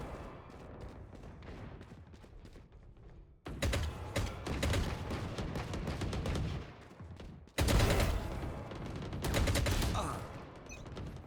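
Rapid video game gunfire in bursts, dense and loud, broken by a short pause, with voices talking over the shooting.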